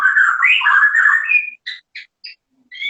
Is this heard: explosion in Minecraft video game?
no